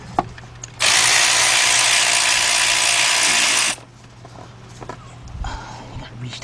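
A ratchet working a nut low on the 2.7 engine of a 2006 Kia Sportage EX, a loud, dense burst of clicking that lasts about three seconds, with someone talking around it.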